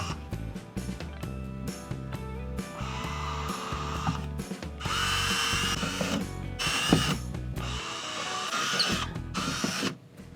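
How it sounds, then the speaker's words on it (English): A power drill bores pilot holes into a wall for guitar hanger anchors, a steady close whine running in several bursts with brief pauses and louder stretches in the second half. "the next thing I'm going to do is drill my pilot holes"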